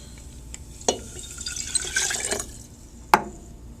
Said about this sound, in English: and then add the water.